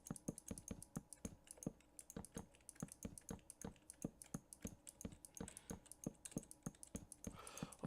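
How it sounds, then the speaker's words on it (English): Computer keyboard keys click in a steady run of quick, crisp taps, close and fairly faint, with no voices. "Oh, I hate the clicking."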